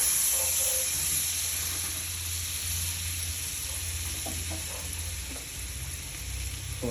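Butter sizzles in a pan heated on a stove, a steady close hiss and crackle that holds evenly throughout with no voices.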